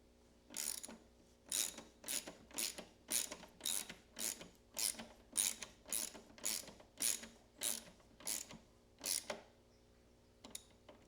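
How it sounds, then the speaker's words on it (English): Metal screws and fasteners are tightened on a BMW K1200LT motorcycle with a ratchet. About fifteen sharp bursts of clicking come close and at a steady, regular pace, with short gaps between them. "hang onto those with a set of pliers while we tighten it from the outside"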